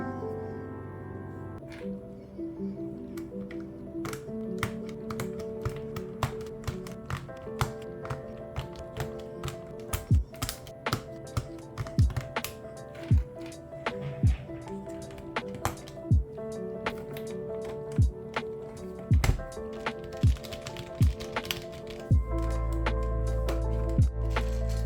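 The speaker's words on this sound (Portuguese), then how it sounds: "Agora eu vou estar colocando aqui o switch no teclado." Akko V3 Pro Cream Yellow switches are pressed into a GMK 67 custom keyboard, making a long series of sharp plastic clicks and snaps at an irregular pace over soft background music.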